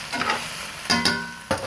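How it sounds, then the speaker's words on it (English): Rib eye steak searing in a hot iron pan gives a soft sizzle with a few brief scraping or stirring clicks, close and fairly quiet. "I'm going to sear it for about maybe 2 minutes on this side"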